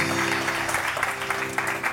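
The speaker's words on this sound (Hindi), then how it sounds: "तो ढेर सारी तालियां।" Studio applause on a morning TV show segment honouring young female boxers, a steady, dense patter of clapping over a low tonal hum, with no voices heard.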